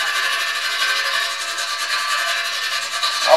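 Steady scraping rub as a drilled hole is smoothed and rounded by hand while building home-brewing beer equipment, a continuous close abrasive sound with a small sharper scrape at the very end, no talk.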